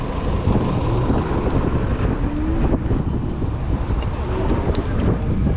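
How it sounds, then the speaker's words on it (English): Strong wind buffets the microphone while riding a Zooz electric bike through city streets, a steady loud roaring rush with low rumble throughout and a faint rising electric motor whine underneath. "God damn this wind, holy shit, I can feel it slowing the bike down"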